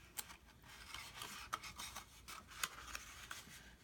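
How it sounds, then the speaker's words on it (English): Paper score lines on a handmade box being rubbed together by hand, a faint close scratchy rustling with small irregular clicks and scrapes over a few seconds, with no talking. "Just make sure you rub those score lines all together so your top"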